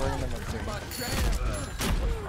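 Rapid gunfire bursts from an Overwatch match on the Numbani attack map, crackling loudly and continuously with sharp transients, layered with busy game effects and voices talking over the action.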